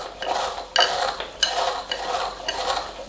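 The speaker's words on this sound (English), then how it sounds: "I'm cheating, using a potato masher." A potato masher works dessert topping of Honey Bunches of Oats in a bowl for a sweet potato crisp, a repeated scraping, clattering crunch of metal against the bowl in uneven strokes, close and alone.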